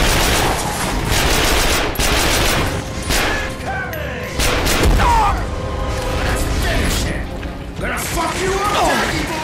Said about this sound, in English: I'll just use this submachine gun in the meantime